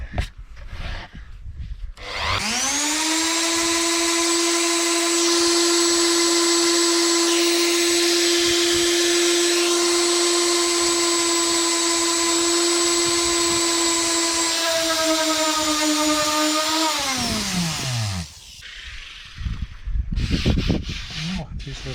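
A Dnipro-M random orbital sander runs close by with a loud steady whine that holds for about fifteen seconds, dips slightly in pitch near the end, then winds down and stops.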